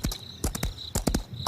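A horse's hooves clip-clop in an uneven rhythm of sharp close knocks, several hoof strikes in quick pairs, heard alone as a horror story sound effect.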